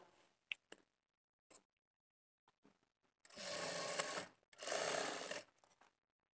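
A sewing machine stitches frills onto a sleeve in two loud, steady whirring runs, preceded by scattered clicks and taps of handling fabric, close and without speech.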